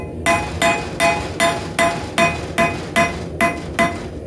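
Heated half-inch rebar being hammered on an anvil while drawing out the handle of a squirrel tail knife, ten evenly spaced ringing metal strikes at a steady rhythm, close and clear with no talk.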